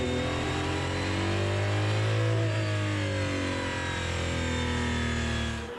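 Aston Martin Valkyrie V12 engine with Max Verstappen at the wheel, revving hard and steady in a loud, sustained high-pitched howl, gliding up and down through the revs for about six seconds with no talk.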